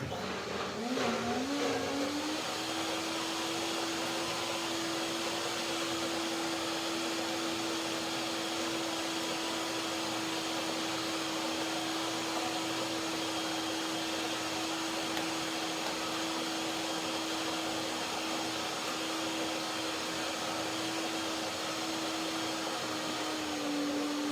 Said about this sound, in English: Now I make the filling to finalize it one more blender dance and to give it the final texture I want, the creaminess